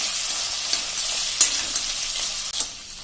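Carrot and mixed grains roasting uncovered in a pan over a medium flame for spicy Gujarati seven-grain khichdo, giving a steady close sizzle with a few soft stirring scrapes and clicks.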